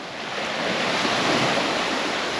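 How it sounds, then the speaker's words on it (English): Ocean waves breaking and washing onto a beach in Vietnam at sunset, a steady broadband roar of surf that swells slightly louder partway through, with a touch of wind and no talk. "I've actually missed the beaches and the sounds of the waves"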